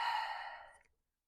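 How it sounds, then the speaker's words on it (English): One long, slow, deep exhalation breathes out close and soft, fading away within about a second. "Long, slow, deep breaths."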